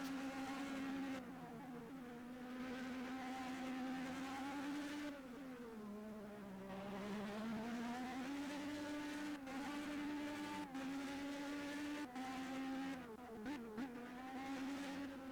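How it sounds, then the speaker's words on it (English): Formula B open-wheel race car engines in the Project Cars PC racing game drone and buzz continuously, their high-revving pitch rising and dipping through gear changes and corners, loud and with no voices over them. "They do sound a bit funny, don't they, the Formula B cars?"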